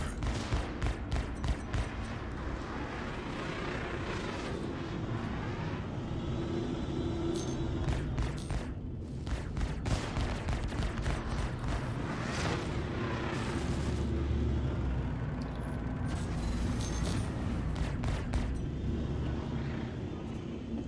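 Rapid spaceship gunfire and impacts against shields in the space combat game Star Citizen, a dense continuous barrage of blasts and crackling hits over a loud rumbling background, sustained for about twenty seconds.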